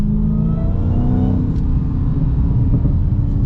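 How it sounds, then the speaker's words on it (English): A Dodge Challenger Hellcat engine rumbles steadily at close range while revving, with faint scattered crackles from the exhaust. "gonna try to keep getting the exhaust to crackle a little bit."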